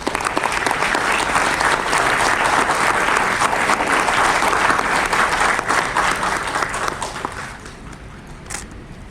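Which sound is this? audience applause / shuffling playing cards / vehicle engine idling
audience applause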